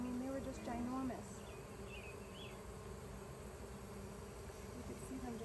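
A huge swarm of honey bees buzzes in a hive with freshly drawn comb, a steady, faint droning hum that carries on without pause through the whole stretch.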